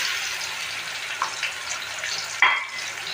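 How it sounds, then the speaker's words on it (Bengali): Chopped onion frying in hot oil as a shrimp and snake gourd stir-fry gets under way: a steady, soft sizzle, close by, with a few brief scrapes or clinks and one sharper clatter near the end, no voices. "তেল গরম হয়ে গেছে প্রায়, আমি পেঁয়াজ কুচি দিয়ে দেবো।"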